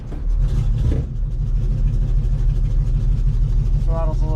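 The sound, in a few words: 1971 Dodge Coronet engine after stalling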